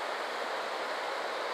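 A creek runs behind a campsite, a steady broadband rush of flowing water with no breaks or voices, constant in level and fairly close.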